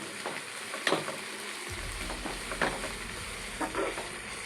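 Turmeric and salt are stirred into onions sizzling in a pan for egg curry, a steady frying hiss broken by several sharp scrapes of the spoon against the pan, heard close up with no talk.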